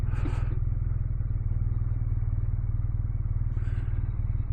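A BMW R12 boxer-engine motorcycle runs steadily while being ridden, giving a loud, even low throb with a rapid pulsing rhythm that stays constant throughout, close to the microphone.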